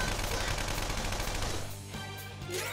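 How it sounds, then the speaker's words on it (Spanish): Rapid gunfire in Persona 5 Royal, a dense burst of shots that rattles on loudly for about two seconds before thinning out. "Los disparos."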